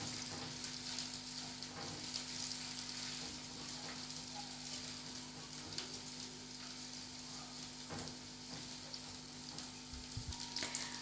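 Garlic fries in a pan over a low flame for kebab preparation, a soft, continuous sizzle with faint crackles and a steady hum underneath, heard alone without talking.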